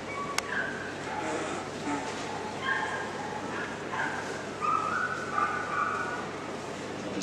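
A sniffer dog at a Crufts display gives repeated high yips and short whimpering barks while working, moderately close, over a steady crowd murmur and talk.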